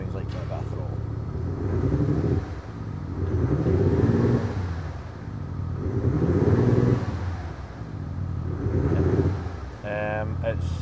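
Audi S4 TDI diesel with active exhaust idling and revving in repeated swells, a steady low rumble rising and falling about every two seconds, close by, with a brief voice near the end.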